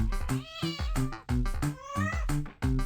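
A cat meowing while being petted in the video game Slime Rancher 2, a run of about six close, clear meows in quick succession with no talking.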